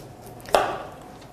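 A knife chops through the ends of a vegetable on a cutting board, a single sharp chop followed by a short fading rustle, fairly close with no voices.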